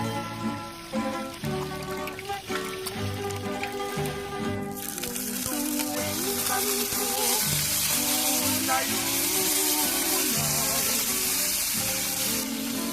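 Tapa and eggs sizzle in a pan for a rooftop breakfast, with steady frying that grows louder and brighter about halfway through as more food hits the hot oil, under background music.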